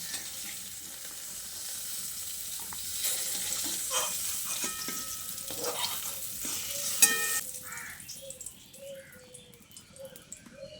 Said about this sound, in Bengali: এদিকে দেখুন পটল ভালোভাবে ভাজা হয়ে গেছে।